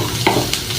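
Onions sautéing in a pan for a hostel fish curry, a brief close burst of sizzling with a couple of quick stirring scrapes, no talking.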